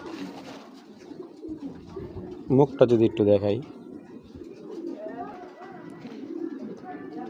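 A large female Python pigeon, a big-headed breed, gives a short burst of soft cooing phrases near the middle, with someone talking before and after it.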